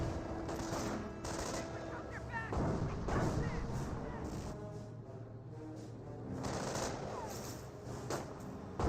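Rapid autocannon fire and other gunfire in the real-time strategy game Company of Heroes, with dense, sustained bursts and impacts throughout, a battlefield din that is loud and continuous with a few surges.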